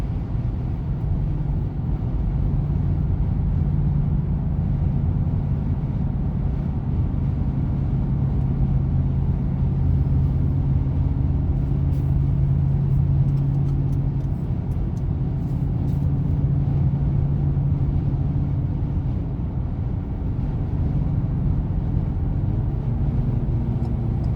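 Inside a 2020 Ford EcoSport Titanium driving at speed, a steady low engine and road rumble holds evenly throughout, with faint clicks partway through and no talk.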